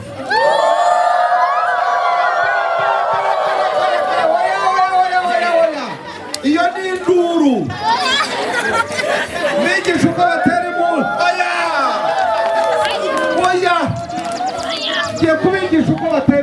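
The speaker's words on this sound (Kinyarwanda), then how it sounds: "nimutere impundu zonyine twumve" A crowd of students ululating on a visit to a cultural drum troupe, many high trilling voices wavering together loudly, breaking off then rising again in waves with some chatter mixed in.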